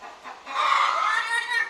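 A chicken clucks nearby in a short, raspy burst of noisy calls lasting under two seconds.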